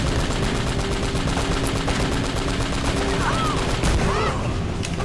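Enemy gunfire in Uncharted: Drake's Fortune, heard as dense, continuous rapid shots and machine-gun bursts at high volume, with a few sharper cracks standing out.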